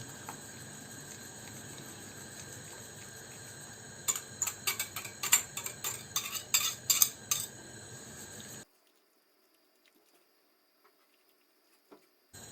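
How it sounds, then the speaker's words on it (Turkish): A spoon scrapes and clinks rhythmically against a pot as mahluta soup with melted butter is stirred, a quick clattery run of taps that stops abruptly into near silence. "kaynayıncaya kadar karıştıracağım"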